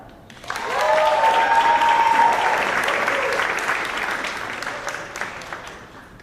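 Audience applause at a Lindenwood University-Belleville honors convocation swells after a brief pause into a sustained, even wash of many hands clapping, then slowly tapers, with faint voices underneath.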